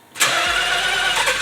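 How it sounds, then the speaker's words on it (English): A stock factory Mazda 3-rotor rotary engine in a rare RX-7 collection cranks briefly and catches, settling at once into a smooth, steady idle held close and clear. "let's hear this bone stock factory 3-rotor"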